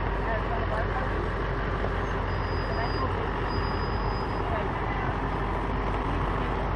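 A 2007 truck idles and rumbles steadily as it pulls a long-stored camper out of a garage, a continuous low engine drone with a faint high beep partway through, while people talk nearby.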